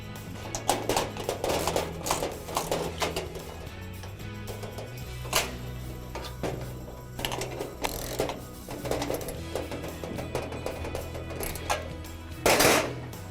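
Ratchet and flat screwdriver tightening a nut on a Crown Verity caster, rapid bursts of metallic ratchet clicking in uneven runs with clanks and handling noises, close by, no talk.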